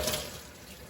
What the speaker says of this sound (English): the first thing you want to do is wash your hands for 20 seconds